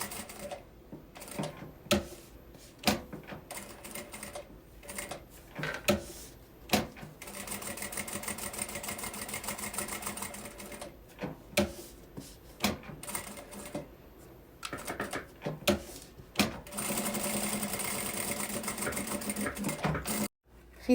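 Sewing machine stitching a thermal lunch bag at a short stitch length, in repeated close bursts of fast whirring separated by pauses and handling clicks, with a longer steady run near the end.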